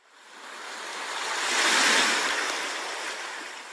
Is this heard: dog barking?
no